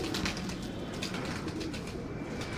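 Pigeons in a loft coo in soft, repeated low murmurs, a steady gentle burble with faint rustling and no talking.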